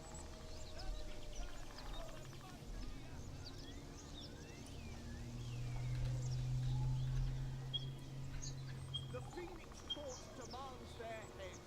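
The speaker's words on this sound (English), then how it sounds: "I'm just kind of enjoying the bird sounds right now." Birds honking and calling in a strategy video game battle scene, scattered calls under a low ambient bed with a person talking over them.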